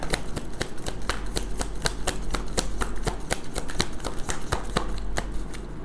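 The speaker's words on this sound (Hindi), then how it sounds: "हमेशा की तरह मैं एक ही शफल करूँगी गाइस।" A tarot card deck is riffle-shuffled up close, producing a rapid, even run of crisp card flutters and snaps that stays steady throughout without speech.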